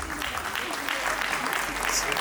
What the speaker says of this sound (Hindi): ब्रिजेश सर, तालियां प्लीज.